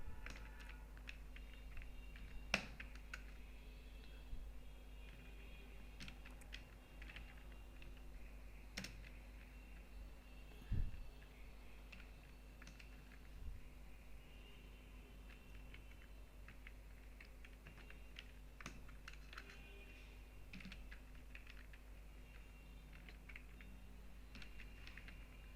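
Computer keyboard clicking as HTML code is typed, quiet and close, with irregular bursts of keystrokes and a few sharper taps over a low hum.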